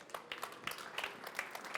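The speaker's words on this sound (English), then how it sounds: "So give her a round of applause, please." An audience at a EuroShop 2020 trade-fair presentation gives a round of applause: faint, fairly sparse hand clapping from a small crowd that lasts under two seconds.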